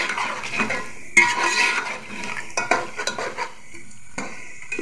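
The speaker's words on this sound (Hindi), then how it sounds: "यहाँ हम ये मसाले को अच्छे से भून लेंगे।" Spice masala for beef nihari being stirred and fried in a pot, with repeated utensil scrapes and clinks over a steady sizzle, close and fairly loud, no talking.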